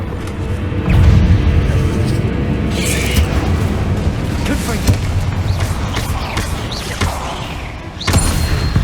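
A Confringo blasting spell in Hogwarts Legacy sets off loud booming explosions with deep thuds and crashing impacts, one near the start and another near the end, over a rumbling game background.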